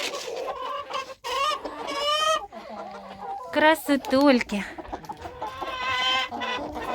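Several Silkie chickens, including a rooster, cluck and warble close by in bursts, with a person briefly speaking among them.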